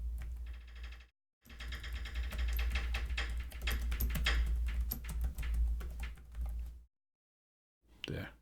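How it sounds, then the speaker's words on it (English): Rapid keystrokes clatter on a computer keyboard in a continuous burst, with a short pause before a final few taps. "we can click text here and we can start typing something"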